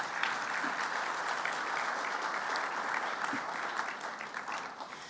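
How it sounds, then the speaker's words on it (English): An audience at a Tshwane University of Technology 20th anniversary lecture claps in steady, sustained applause from a full hall, even and continuous before tapering slightly at the end. "Give yourselves a round of applause for being here."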